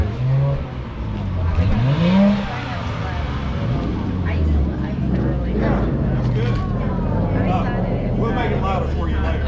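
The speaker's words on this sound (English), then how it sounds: "give it a rev?" A 2023 Nissan Z sports car idles and then revs up and drops back at Pikes Peak International Raceway. The engine sounds close and steady, with a rising sweep early on, while people talk nearby.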